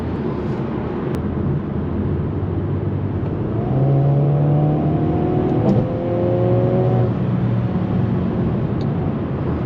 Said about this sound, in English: Nice passing power, and obviously this car does great in straight line acceleration